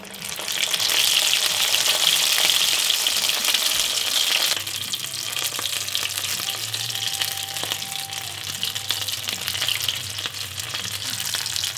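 Tiny venison tacos hit very hot oil and deep fry with a loud, hissing sizzle that drops to a lower, steady bubbling crackle partway through, with a faint hum underneath.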